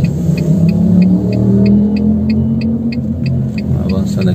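A car's engine hums and rumbles steadily from inside the cabin as it maneuvers along a town street in Tietê, with faint regular ticking, likely a turn signal, above the low drone.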